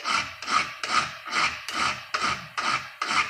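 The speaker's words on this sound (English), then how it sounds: "And this file here is actually really aggressive. It does a good job. This is a good file." A hand file strokes across chainsaw chain teeth in eight steady, evenly spaced rasping passes, each a bright scrape, close and clear with no talk.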